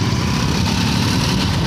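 A motorbike engine runs in cold weather, a close, loud, steady chugging rumble that fills the short moment without pause.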